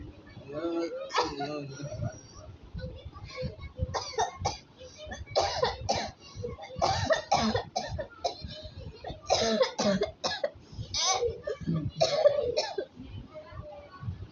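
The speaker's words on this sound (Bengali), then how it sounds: "কাশি হয়ে গেছে" Someone coughs repeatedly in short, harsh bursts and clears their throat, close to the microphone. People talk quietly in between, and a voice may also be heard.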